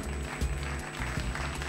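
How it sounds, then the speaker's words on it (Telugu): A studio audience at a televised anniversary show applauds, a short, dense burst of clapping that runs steadily throughout and sits moderately loud, with some faint crowd noise underneath. "ఒకసారి ఆవిడ గట్టిగా చప్పట్లు కొట్టేద్దాం."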